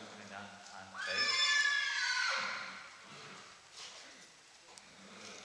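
A horse whinnies loudly during a horse training demonstration at an expo, a rising-then-falling harmonic neigh lasting about a second and a half, with people talking before and after.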